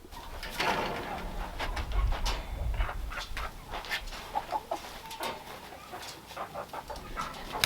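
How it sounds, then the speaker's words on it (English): Hens and roosters in a backyard coop and grass run cluck and call steadily and close by, with a few sharper squawks scattered throughout. "That gave me 21 hens, and I got 2 roosters."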